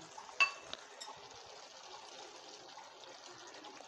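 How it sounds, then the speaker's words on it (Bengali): Water is poured into a rohu fish curry with mango as it cooks. A single soft clink comes first, then a faint, steady stream of liquid runs on quietly. "এবার আমরা অল্প করে জল মেশাবো রান্নায়"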